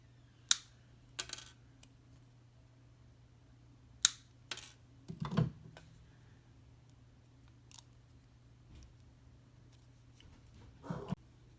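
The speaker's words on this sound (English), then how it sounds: "I'm going to take my half round and cut those wire endings." Half round jewelry wire ends being snipped while finishing a wire-wrapped weave setting ring: a few sharp, isolated clicks of cutters scattered over a quiet background, with small handling rustles between cuts.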